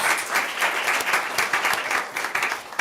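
An audience at a county board meeting breaks into a short burst of applause, a dense patter of many hands clapping nearby.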